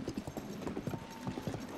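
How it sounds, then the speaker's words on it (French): A horse's hooves clip-clop in a quick, uneven rhythm of sharp knocks on hard ground, faint and close-miked. The steps repeat steadily through the short moment with no speech. "Oh, le cheval!"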